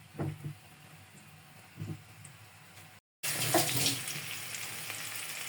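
Chicken and spices fry in a pot over a clay stove, a low sizzle with a few stirring knocks, then a brief gap before a louder, steady hiss of frying.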